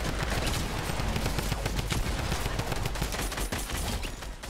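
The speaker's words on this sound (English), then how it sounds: "if you get near the spawn, these guys shoot you" Enemy gunfire near the spawn point in Fortnite, a dense, continuous volley of rapid automatic shots that stays loud and close throughout.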